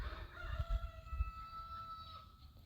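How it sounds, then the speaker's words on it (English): A rooster crows faintly in the distance over a quiet outdoor background with low rustling. "rooster is crowing"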